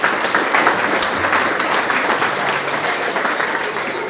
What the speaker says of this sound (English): please give a clap for Trevor